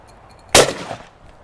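One loud, close shotgun blast from a brand-new 2025 Blaser FBX, with a sharp crack that decays quickly and no other sound around it.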